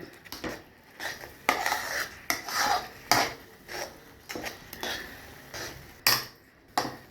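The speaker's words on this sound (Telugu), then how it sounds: "ఉండలు లేకుండా ఇట్లా కలుపుతూనే ఉండాలి" A spoon scrapes and stirs a thick Billala pulusu mixture in a metal pot, giving a close, steady run of rhythmic scraping strokes with occasional sharper knocks against the pot.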